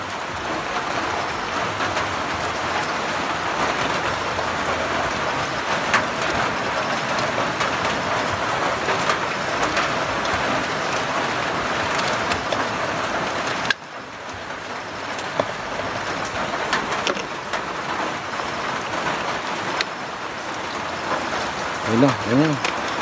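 Heavy rain falls steadily through an outdoor scene in Batangas, a dense continuous hiss holding at an even level across the whole stretch, dipping briefly midway before returning, while a person speaks over it.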